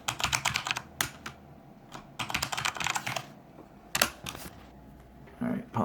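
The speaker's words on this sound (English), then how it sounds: "I'll type in my password." Password being typed on a Corsair K95 computer keyboard, with bursts of crisp, rapid keystrokes separated by short pauses, close and moderately loud, and faint voice-like sounds underneath.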